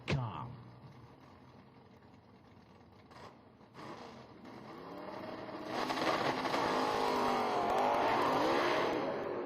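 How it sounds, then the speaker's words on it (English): Drag race car at an IHRA Pro-Am event at MDIR, engine revs climbing from a low rumble to a loud sustained roar under an announcer's commentary, with crowd and track noise around. "Hey, here, Brian, the RPMs come up"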